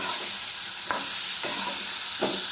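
Masala brinjal (aubergine) sizzles steadily in a hot pan, with a constant bright frying hiss and a few soft scraping stirs every half second or so, close up and with no voices.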